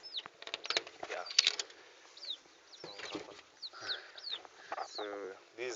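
Chickens cluck and squawk in a chicken structure on a rabbit and chicken farm, a busy overlapping chorus of close calls and clucks with an occasional rooster-like cry.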